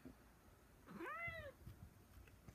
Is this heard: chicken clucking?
no